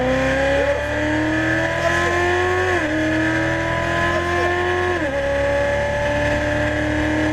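An exotic sports car's engine drones loudly and close on a race track, holding steady revs with two quick dips as the driver shifts or lifts, then climbing again.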